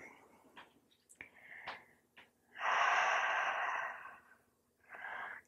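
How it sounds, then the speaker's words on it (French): Soft breaths during a prenatal yoga session: a few faint short inhales, then a long, louder exhale followed by another breath, close and quiet with no talking. "Quelques petites respirations ici."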